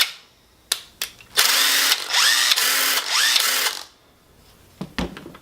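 A Hercules 20-volt cordless impact driver whirs in two sustained bursts of rapid hammering, with a few sharp clicks and taps before and after.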